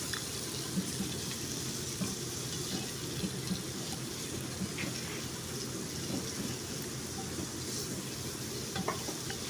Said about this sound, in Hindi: 6 से 7 मिनट तक तेज़ आग पे इसको भुनाई करेंगे।